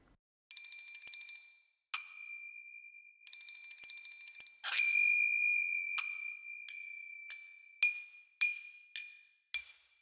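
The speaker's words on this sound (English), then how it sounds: "Let's try the Bautan bells." Bautan bells ring out in a series of bright metallic strikes, some as quick tremolo rolls and others as single clear tones left to decay, close and alone against silence.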